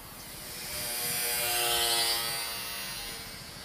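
A small Mini Trainstar electric RC airplane makes a low pass, its high electric motor buzz swelling as it nears, peaking midway and fading again as it moves off.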